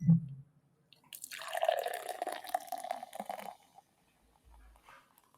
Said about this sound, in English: That was a phenomenal pour.